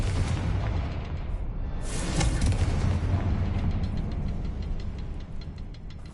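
A Confringo spell bursting in Hogwarts Legacy, a loud, dense rumbling blast with a sharp swell near the middle, then sustained crackling and low booms that linger without fading.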